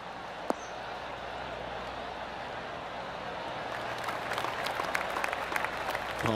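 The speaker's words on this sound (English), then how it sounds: "Oh, golf clap." Polite applause from a golf gallery at the Arnold Palmer Invitational, steady scattered clapping that builds slightly toward the end, heard from a distance.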